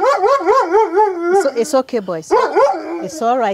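A pet dog near a home garden in Yaoundé howls and yips in wavering cries and short barks, close and loud, while a person speaks soothingly over it.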